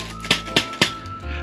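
Three sharp metallic flicks from a mini whisk with hardened steel wires, evenly spaced and close, each ringing briefly before fading.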